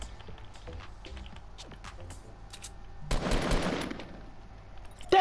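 Gunshots fired into the air in Fortnite, heard as a dense burst of rapid shots lasting about a second, loud against quieter game ambience with scattered taps and footsteps beforehand.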